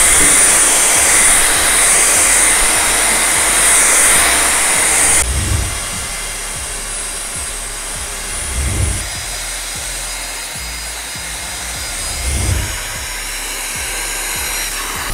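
Agaro Regal Plus vacuum cleaner running close and loud while cleaning a sofa, a steady high-pitched motor whine and airy suction roar throughout, shifting in tone about a third of the way in, with a few soft low thumps from the nozzle.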